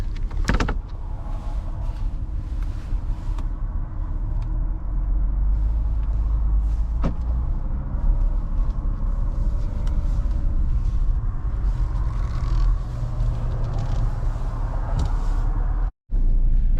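A 2017 Porsche Cayenne on the open road, with a steady low cabin rumble of engine and tires throughout, a couple of brief clicks and a short dropout near the end, and no talking.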